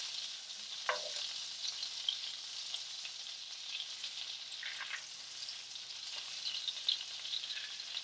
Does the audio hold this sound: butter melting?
yes